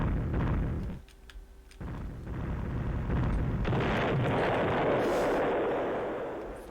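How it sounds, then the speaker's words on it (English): Rockets launching and bursting in the space combat game Escape Velocity, with a loud rumbling blast, a short dip, then a sustained roaring explosion wash that slowly fades. "Rockets will hit anything in their way"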